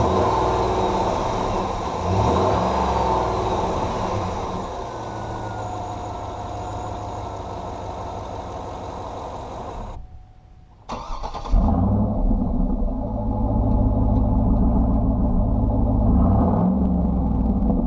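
A warm 2010 GMC Yukon Denali engine idles with a low rumble, cuts off briefly, then cranks and restarts into a steady, deep idle that continues near and loud.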